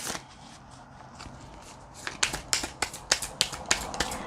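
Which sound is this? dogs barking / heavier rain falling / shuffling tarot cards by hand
shuffling tarot cards by hand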